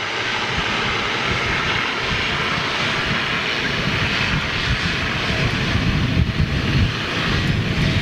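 An easyJet Airbus A320neo jet roars steadily at Manchester Airport, a loud continuous engine rumble and whine with broad noise that swells slightly toward the end.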